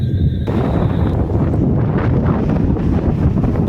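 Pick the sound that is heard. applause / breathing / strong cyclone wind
strong cyclone wind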